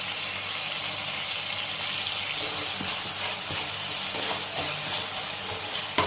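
Ginger garlic paste sizzling in oil in a cooking pan, a loud continuous hissing rush, close and steady throughout, with faint clinks and scrapes toward the end and no talking.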